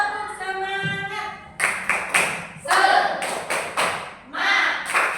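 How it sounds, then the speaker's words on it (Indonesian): A group claps an Indonesian 'tepuk semangat' spirit clap in a quick rhythmic pattern, sharp bursts of claps in sets with short gaps, following a brief tonal vocal sound at the start. "Ayo kita tepuk semangat dulu biar tidak lemes, biar semangat."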